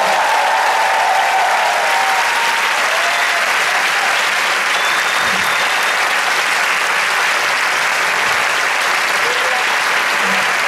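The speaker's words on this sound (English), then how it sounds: "And I really want everyone now to applause to everyone from 72 people in the team" Sustained applause from a large congress audience at an opening ceremony, honouring a 72-person organising team; dense, steady clapping fills the room for the full stretch without pause.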